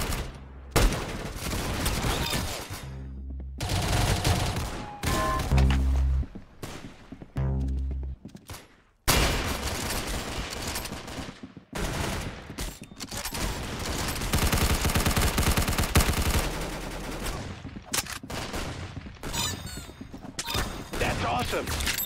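Sustained automatic gunfire from the Roblox game Arsenal, with loud, dense bursts of rapid shots that run almost nonstop, broken by a short lull, while game sounds and voices mix in.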